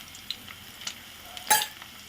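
Tempering seeds crackle and sizzle in hot oil for a catering-style tomato dal, with light intermittent pops and one louder sputtering burst near the end, heard close with no talk.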